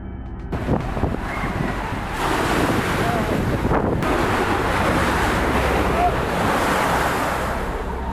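Swimming pool water sloshing and splashing violently during an earthquake, a continuous loud roiling wash with surging bursts and wind-like noise throughout.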